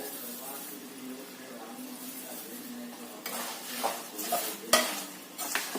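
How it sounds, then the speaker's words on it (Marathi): Tempering with chili powder and salt sizzles in a pan for low-oil Gulmohar chivda: a soft hiss at first, then louder stirring scrapes and sharp spoon clinks against the pan. "आपली मस्त अशी ही फोडणी तयार झालेली आहे"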